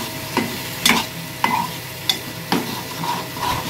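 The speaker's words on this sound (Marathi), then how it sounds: "आणि हा वाटण केलेला मसाला मस्तपैकी तो आता याच्यामध्ये फ्राय करायचा एकदम." Ground masala paste fries in oil while a spoon stirs it for a fresh-fish stuffed bangda dish, giving a steady close sizzle with sharp scraping strokes about every half second and no voices.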